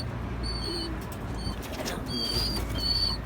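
Young pigeons flapping their wings at close range, a few short soft flutters mixed with faint chirps and high squeaks against a steady background hum, no speech.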